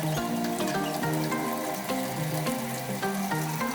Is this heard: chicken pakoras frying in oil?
yes